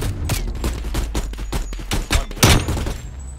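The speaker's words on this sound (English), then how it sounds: "Nice gunshots on that van there" Rapid rounds of gunfire from a first-person shooter video game played in a collegiate esports match, a dense volley of sharp loud cracks in quick irregular succession with one heavier burst near the end, no talk.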